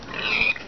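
A pig in the Minecraft video game gives a single short oink, clean and close, lasting well under a second with nothing else around it.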